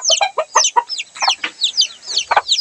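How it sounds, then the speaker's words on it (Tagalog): A chicken clucks in a quick busy run of short, close, fairly loud calls, one after another with no talking. "Ito, manok. Ito, chicken."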